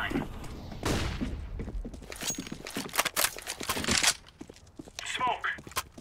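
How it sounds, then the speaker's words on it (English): Grenade, fire grenade and flashbang thrown in a competitive Counter-Strike match, heard as a burst of loud bangs, crackling and gunfire over about six seconds, with voices talking throughout. "Grenade out. Throwing fire. Throwing flashbang."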